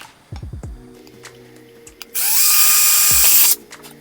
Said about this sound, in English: and drill on that dot.